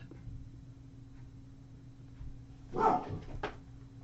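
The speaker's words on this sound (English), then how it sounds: "That was my fur baby barking there" Dog barking indoors, a short pair of faint barks near the end of the clip over a quiet, humming room, with no talk.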